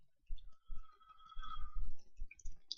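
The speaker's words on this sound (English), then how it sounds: "Do right click, free selection," Mouse clicks at a computer while modeling a chair in 3ds Max, several soft close clicks in quick irregular succession over faint background hum.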